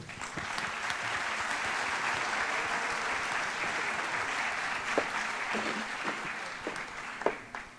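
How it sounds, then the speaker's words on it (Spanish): A warm round of applause welcomes a speaker at a gathering honouring entrepreneurs, sustained dense clapping that thins out near the end into a few scattered louder claps. "pero sí la vamos a recibir con un caluroso aplauso"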